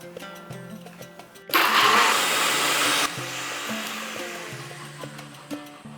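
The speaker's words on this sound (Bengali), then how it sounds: "আমি এটাকে দুধ দিয়ে বেটে নেব" A blender whirs loudly for about a second and a half, grinding a spice paste with milk for a paneer malhari, then cuts off abruptly while soft background music plays throughout.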